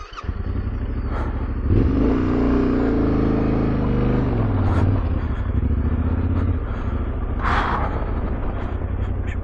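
A motorcycle engine on a muddy trail fires up and runs after stalling, a loud, close, rough idle with throttle blips and clatter, steady throughout with no talk.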